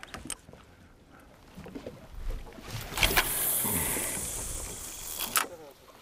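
A small fishing boat moves across open water on a hot day, with a washing, rushing hiss of water and wind that swells in the middle and eases off. No one speaks.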